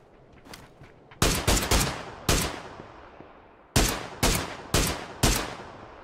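Gunfire in the video game PUBG on PC, with bursts of rapid shots in two clusters, loud and sharp, each crack ringing out with a short decaying tail between quieter gaps.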